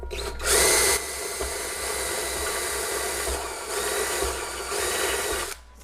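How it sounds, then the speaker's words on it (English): A power drill with a step bit whines steadily for several seconds while drilling an effects pedalboard, with a brief higher-pitched start and slight changes in pitch as it bites through the material. "Now we can drill with the unibit."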